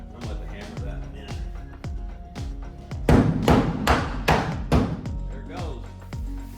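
A hammer drives a part into a truck bed, with a series of sharp metallic blows in a steady rhythm that grow louder and more rapid midway, close and prominent.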